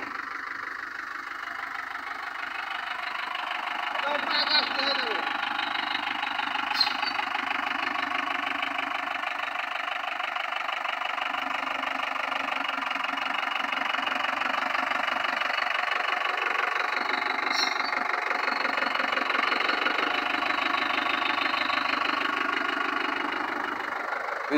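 The diesel engine of a 2012 TATA 407 truck idles steadily with a low, even knocking rumble and a faint mechanical whine, close by and continuous for the whole stretch, with no talking.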